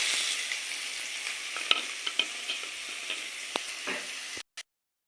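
Chopped onions fry in hot oil with bay leaf and whole dried red chillies, a constant crackling sizzle punctuated by light stirring clicks and taps, ending abruptly in silence, with no voices.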